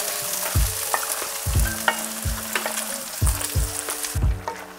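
Onions frying for a spicy chicken pot, with a steady sizzle broken by repeated scraping, stirring knocks of a utensil against the pan, close and fairly loud with no talking.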